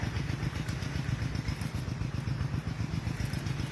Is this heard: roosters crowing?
no